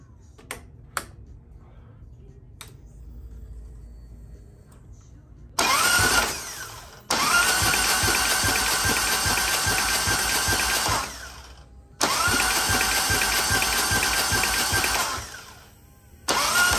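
A motorcycle engine fitted with a Screaming Eagle cam cranks over on the starter without spark plugs to build oil pressure, giving three loud, steady whirring bursts of a few seconds each, separated by brief pauses after a few faint clicks.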